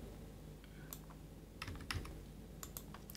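Close, quiet computer keyboard keystrokes, a few scattered clicks followed by a quick cluster of taps for a Ctrl V paste shortcut over a faint background hum.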